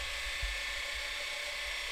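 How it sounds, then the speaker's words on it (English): Cordless RUBI E10 battery mixer drill running steadily while mixing, a continuous high-pitched whine held at even loudness throughout with no talk. "but still a wee bit of mixing to go here, a wee bit more, and then clean up the drill"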